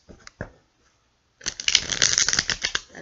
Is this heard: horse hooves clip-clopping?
no